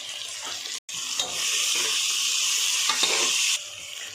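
Fenugreek leaves and slit green chillies fry in oil in a pan, giving a steady, close sizzle with a stirring scrape, broken by a brief silent gap early on, then settling into continuous hiss.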